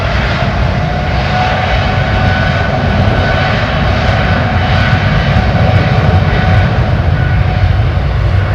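Airliner engines spool up to takeoff power at London Heathrow Airport, a loud, continuous, broadband roar that holds steady and close throughout, with no voices.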